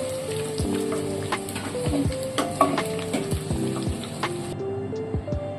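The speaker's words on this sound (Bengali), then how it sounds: "হয়ে গেল সব পকোড়া ভাজা" Pakoras deep-frying in hot oil give a steady crackling sizzle with scattered bright pops and a few metallic scrapes, loud and close throughout with no talking.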